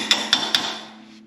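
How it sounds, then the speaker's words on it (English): A hammer taps a metal track bar brace on a Jeep three times in quick even succession, each sharp ringing strike close and loud, the ring fading after the last. "Just needs a little tap with an adjustable hammer."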